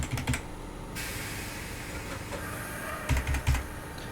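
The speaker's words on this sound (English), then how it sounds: "you can hear a little click click click, and that is from the actual motorman turning the throttle controller to the position" A throttle controller on an MBTA Orange Line 01200-series train in the OpenBVE simulator clicks several times, a quick cluster at the start and another near the end, close and crisp over a low background hum.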